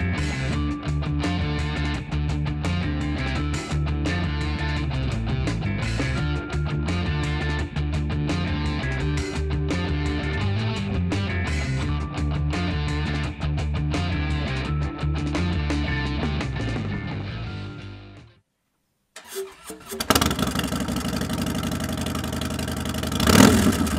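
A 2014 Harley-Davidson FXDL Dyna Low Rider with a Reinhardt exhaust idles and revs loudly and continuously with a deep throaty rumble, cuts out briefly, then restarts and revs again.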